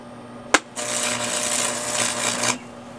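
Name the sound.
stick welding arc tacking Scotts reel mower handle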